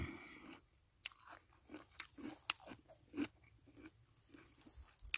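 Someone bites into a crisp pear and chews it, making sharp, close, crunchy bites followed by irregular wet crunching. The sound is quiet and intimate.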